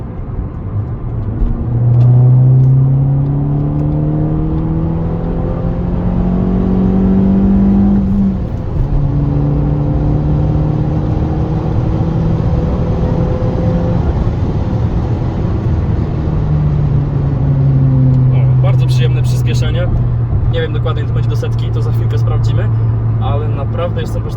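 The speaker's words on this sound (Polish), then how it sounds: "Jak tylko przekroczymy 3000 obrotów, ta turbina zaczyna dmuchać nam i no, wrażenia z przyspieszenia są bardzo fajne." A Fiat Punto Evo turbo engine accelerates hard from the cabin, its rising harmonics climbing and dropping through gear changes over about twenty-four seconds, loud and continuous, with a person talking over it.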